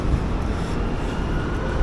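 A Manila MRT metro train at a station produces a steady, dense low rumble and broad hiss, continuous and fairly loud throughout with no clear breaks.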